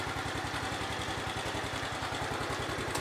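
A first-generation Yamaha Nouvo automatic scooter engine idles close by with a steady, even putter and light mechanical clatter, with no voices over it.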